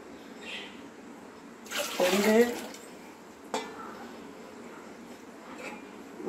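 Water pours into a cooking pot over soaked chana dal, a loud splashing rush lasting about a second, followed by a faint clink and quiet kitchen background.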